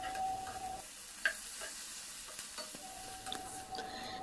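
A vegetable breakfast pancake sizzles quietly in a pan after being flipped, a faint steady frying hiss with a few small clicks and scrapes.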